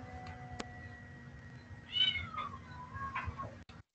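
A young kitten searching for its mother gives a few thin, rising meows, near and fairly quiet over a faint background hum, with one brief click near the start.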